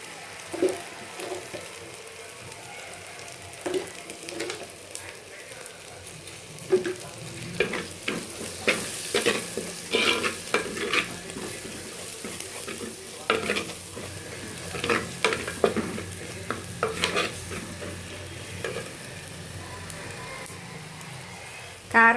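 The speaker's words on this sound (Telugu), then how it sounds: "కారం వేగిందండి. ఇప్పుడు చేప ముక్క వేయాలి." Chili powder, turmeric and ginger-garlic paste frying in oil for a fish pulusu, stirred with repeated scraping clicks and soft sizzling at moderate loudness, no talk.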